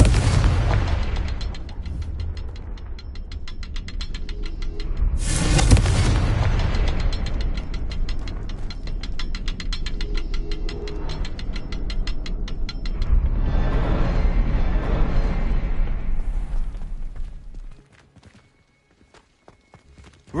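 The Confringo fire spell explodes in Hogwarts Legacy with a loud, abrupt blast, amid ongoing game sounds, clattering and footsteps, with another surge of noise later before everything drops to near silence.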